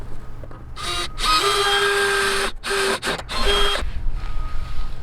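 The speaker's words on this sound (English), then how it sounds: "So I'm holding this little piece of aluminum behind it, then I'm drilling in." A power drill whines in several short bursts, its pitch rising and dropping as it bites into a small piece of aluminum, close up.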